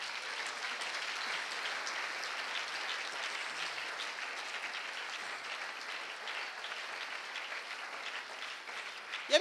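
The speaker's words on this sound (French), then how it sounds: "Acclamons très fort le Seigneur." A church congregation applauds at an evening Holy Spirit jubilee service, a dense, even wash of clapping that holds steady throughout, with no distinct cheering.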